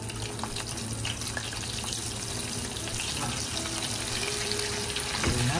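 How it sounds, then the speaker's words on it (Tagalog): Chicken wings deep-fry in hot oil, a dense, steady close hiss and bubbling that swells slightly toward the end. "So, agad na natin ilaglag yung ating chicken. Ayan, i-fry natin ng naging golden brown."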